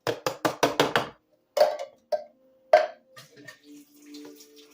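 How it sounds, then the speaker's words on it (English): Juice from canned sweet whole kernel corn draining in a kitchen, opening with a quick run of sharp metallic taps, then separate splashes and a thin trickle, close and clear with no talking. "Draining the juices off of the sweet corn, whole kernel corn."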